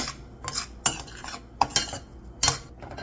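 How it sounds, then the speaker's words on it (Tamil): A metal spoon scrapes and clinks against a pan as semolina is stirred over low to medium heat, with several sharp strikes at irregular intervals and soft scraping between them. "லோ டு மீடியம் ஃப்ளேமில் வச்சு கிண்டி விடுங்க."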